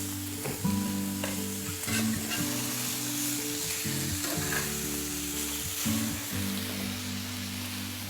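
A steak sizzles loudly in a hot pan just after being flipped, a dense continuous crackling fry with a low background hum, close and steady throughout.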